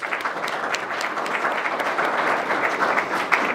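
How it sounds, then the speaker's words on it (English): An indoor audience at a town awards ceremony in Windsor, Connecticut, gives sustained applause, with dense steady clapping throughout. "I think that deserves a round of applause."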